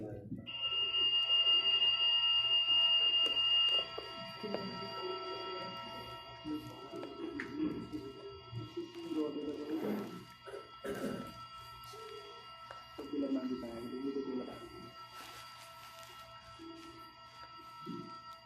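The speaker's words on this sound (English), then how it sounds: "When you listen to the all clear alarm, you can back to normal activity." A steady electronic all-clear alarm tone sounds loudly for a few seconds, then fades while people talk in the background over a faint continuous hum.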